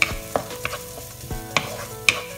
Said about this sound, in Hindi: अब इसमें हम लोग अनियन, इसको हम लोग थोड़ी देर भुनेंगे